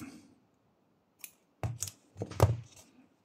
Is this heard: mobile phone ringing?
no